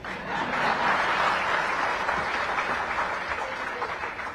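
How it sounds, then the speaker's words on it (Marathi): An audience at a political event applauds, a dense, steady roar of many hands clapping together that holds throughout without breaking. "पण सर्वात जास्त टाळ्या मात्र कालिदासजींना मिळाल्या"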